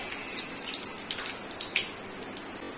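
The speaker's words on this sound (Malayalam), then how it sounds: "കടുക് പൊട്ടി, വറ്റൻമുളക്" Mustard seeds pop in hot coconut oil in a small pan, a quick irregular run of sharp crackles at close range, with no talking.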